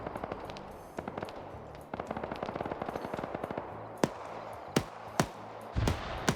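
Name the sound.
BMP armoured vehicle firing its gun in a video game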